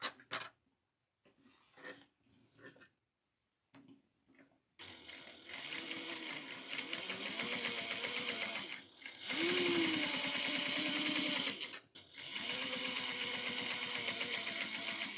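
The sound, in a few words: sewing machine top stitching zipper pouch lining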